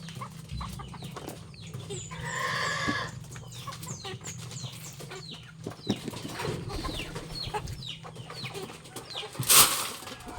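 Chickens cluck and squawk around close by, with several overlapping calls and a sharp flurry of wing flapping near the end.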